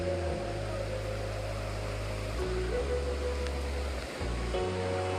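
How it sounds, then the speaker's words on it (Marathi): Devkund waterfall pouring heavily, heard as a loud, unbroken broadband rush of falling water close by, with a steady low hum beneath it. "इकडून धो धो पाणी पडते"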